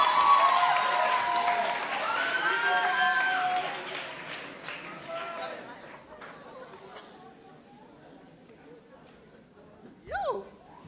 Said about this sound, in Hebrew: המון מחיאות כפיים.